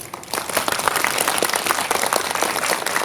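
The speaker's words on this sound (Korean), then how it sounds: "다시 한번 세 분께 큰 박수 부탁드리겠습니다" Sustained audience applause at a film talk event, dense steady clapping from a crowd, loud and continuous throughout.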